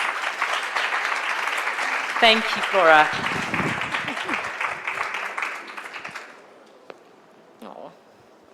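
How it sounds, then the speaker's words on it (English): An audience claps warmly for several seconds while a voice speaks over the applause, which then fades out with a few scattered claps. "Can we give them a warm hand of applause?"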